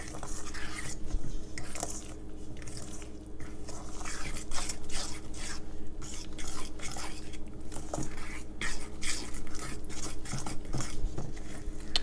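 Southern cornbread batter being mixed by hand in a bowl, giving repeated wet slaps and light clinks of utensil against the bowl in an uneven, steady rhythm, close up.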